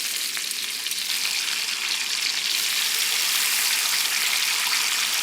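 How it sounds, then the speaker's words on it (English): Bacon frying in a pan gives a dense, steady hiss and crackle of spitting fat, close and loud, constant for the whole stretch with no voices. "Seems like every video I'm cooking bacon now"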